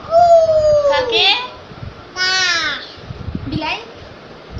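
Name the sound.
child imitating a crow's caw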